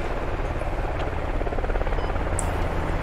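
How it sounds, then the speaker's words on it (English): A helicopter drones loudly and continuously overhead in a video game, its rotor chop and engine buzz steady and close, with no voices. "there's a freaking helicopter on floating"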